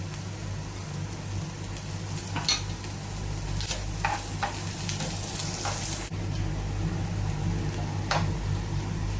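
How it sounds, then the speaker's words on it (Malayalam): Shallots and green chillies sautéing in a pan for a clam roast, a continuous soft sizzle with occasional scrapes and stirring clinks over a low steady hum, no talking. "ചെറിയുള്ളിയൊക്കെ ഒന്ന് സോഫ്റ്റായി വന്നിട്ടുണ്ട്. ഈ സമയത്ത് നമുക്ക് പച്ചമുളക് ചേർത്ത് കൊടുക്കാം."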